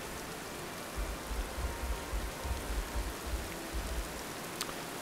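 Heavy rain in the video game Sapiens forms a soft, steady hiss of falling water with low rumbling pulses underneath, fairly quiet and continuous, with no voices.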